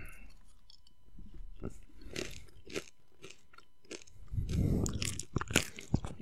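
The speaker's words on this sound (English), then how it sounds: "Can you hear me chewing on these in the mic?" Crunchy snacks from a bag being chewed right at the microphone, with a series of loud, close crunching bites that come in irregular bursts and build to a heavier flurry near the end.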